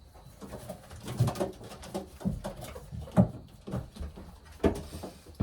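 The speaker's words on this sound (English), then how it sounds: "Let's take out the hen. This is a Kenny White bird." Racing pigeons cooing close by, soft low throaty coos repeating every second or so, with faint handling noises.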